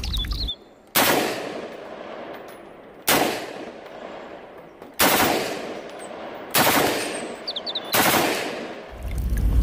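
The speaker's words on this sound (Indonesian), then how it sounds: "yang ini tembak-tembakan M16" Five loud rattling bursts of rapid toy M16 gunfire, each lasting about a second, separated by short quiet pauses.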